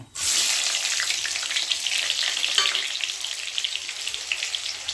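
Onions hit a hot wok with cumin and bay leaf and burst into a loud, steady sizzle. The crackle starts abruptly and holds as a dense hiss with small pops throughout.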